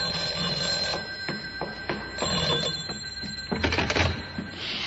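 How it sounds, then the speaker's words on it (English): An old telephone bell rings in repeated short bursts, fairly close and clear, against a faint background hiss with no talking. "5 minutes later, the phone rang."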